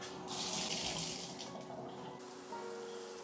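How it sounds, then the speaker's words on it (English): A home shower runs steadily, a loud spraying hiss of water striking a surface, with the flow shifting partway through as it is interrupted, and no talking. "But now that I'm back home, I'm gonna take a quick shower."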